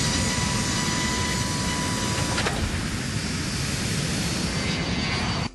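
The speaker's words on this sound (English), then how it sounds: "the plane takes off" A BirgenAir plane takes off at night, jet engines roaring as a loud continuous broadband rush that holds steady throughout before cutting off at the end.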